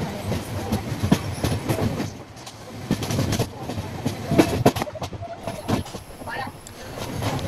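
Train cars roll through a railway station in Kerala's Kollam district, a loud rumbling clatter with rhythmic wheel clacks and occasional squeal, close by and continuous.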